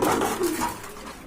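Pigeons coo at a farm that sells them, a few soft throaty calls running together near the microphone over a steady hum of other birds, with no one talking.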